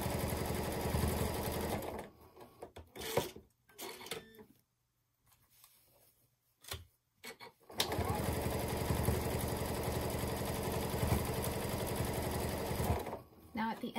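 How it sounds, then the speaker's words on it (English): Sewing machine stitching the binding of a zippered pillow, loud steady running for two stretches with a quieter pause of brief starts and stops between them, closing with a few short stitches. "So just the last few stitches here as I'm going"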